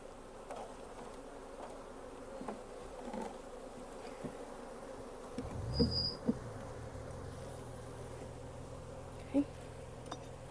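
Honey bees buzz steadily around hive frames on a farm, a low droning hum with a few brief knocks and clatters from handling the frames.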